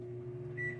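A steady low electrical hum of a running microwave oven thawing chocolate, with one short, fairly faint high-pitched beep sounding near the end.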